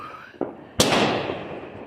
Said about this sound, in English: at least I have some pretty fireworks to watch